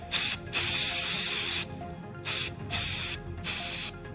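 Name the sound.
mosquito spray being sprayed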